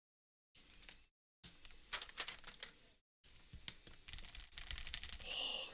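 Keys clacking in rapid bursts on a LEGO-built mechanical keyboard, loud and close, with short pauses between runs of typing and no one talking.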